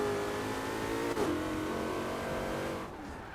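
A supercharged 1968 Ford Mustang engine in Forza Horizon 4 roars steadily with a high whine on top, dips briefly as it shifts, then fades slightly toward the end.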